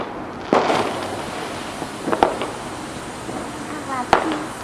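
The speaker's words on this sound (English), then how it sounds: "Right, fireworks." Bonfire Night fireworks bursting outdoors, a few sharp cracks and bangs spaced a second or two apart, with voices talking in between.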